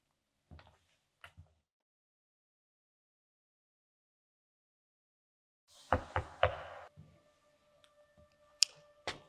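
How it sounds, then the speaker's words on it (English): Knocking on a door during a stage theater performance: two faint isolated knocks early on, a long silence, then a louder cluster of knocks followed by scattered clatter and tones. "I've been knocking for hours and no one opens the door"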